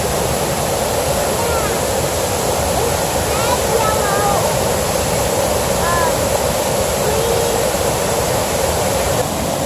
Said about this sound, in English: There she is, Athabasca Falls.